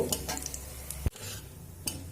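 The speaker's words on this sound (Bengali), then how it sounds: "গোটা জিরে আর দেব শুকনো লঙ্কা ফোড়নটা একটু ভাজা হতে দেব" Whole cumin, dried red chili, cardamom, cinnamon and cloves frying in oil for a tempering, a soft, low sizzle with a few clinks of a spoon against the pan.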